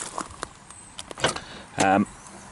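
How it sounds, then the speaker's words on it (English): The boot of a John Cooper Works Mini Roadster opens with light clicks and handling noises, then a short, loud mechanical whir and clunk as the lid releases, recorded close by. "So if we just kind of open that up, and I can show you just how big the boot is."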